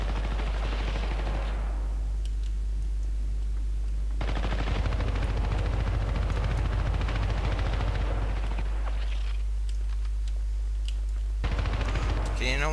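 Rapid automatic gunfire in Syndicate rattles in long, loud sustained bursts, broken by a couple of brief pauses before firing resumes heavily.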